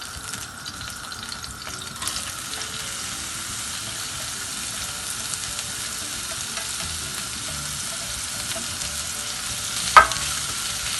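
Finely chopped spring onion whites fry gently in oil, making a soft, steady sizzle with light stirring. There is a single sharper clink near the end.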